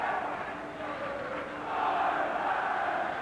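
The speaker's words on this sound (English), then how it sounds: "Fairly good crowd here this afternoon." A football crowd of about six thousand at a Northern Ireland versus Albania match in December 1996 makes a steady distant roar and murmur, swelling slightly partway through.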